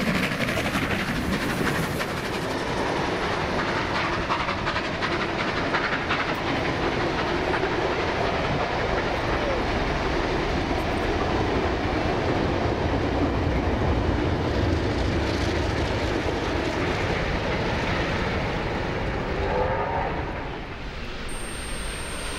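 Trains storm through Unanderra station out of Wollongong, bound for Robertson and Moss Vale: a loud, steady rumble and rail noise with clickety-clack lasting throughout, close and continuous without voices.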